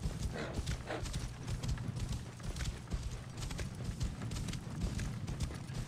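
Horse hooves clip-clopping in Assassin's Creed Origins, a fast steady run of hoof beats at moderate loudness, with some faint background game sound.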